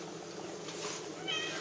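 A cat meows briefly near the end, a faint high call over steady outdoor background noise.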